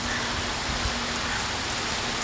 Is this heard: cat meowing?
no